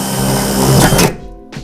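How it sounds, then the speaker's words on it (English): Power drill boring an angled pilot hole into the curved metal body of a Ford Transit van, a loud whirring burst lasting about a second that cuts off abruptly, followed by a short tap. "we're actually gonna drill our pilot hole at a bit of an angle so the drill bit doesn't walk."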